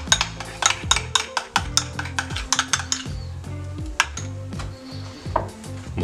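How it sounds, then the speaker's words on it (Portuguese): Mayonnaise mixed with pepper is stirred briskly, making rapid, steady clinks and scrapes of a utensil against a dish, close and fairly loud with no talking. "nós vamos pegar a maionese, misturar a pimenta e mexer bem"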